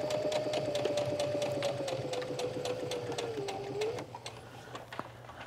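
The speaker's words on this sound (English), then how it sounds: "I'm just gonna sew all the way down" A sewing machine stitches stretch fabric with stretchy thread in a long steady run, its motor whining with a rapid rhythmic clatter, then slowing and stopping near the end, followed by a few soft clicks.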